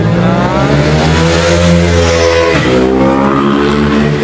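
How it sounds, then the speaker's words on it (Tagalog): Loud, steady roadside traffic on a city street, with a car engine rumbling and shifting pitch nearby as vehicles pass continuously, no voices. "Pasensya na po, ingay-ingay po nasa kalsada po tayo"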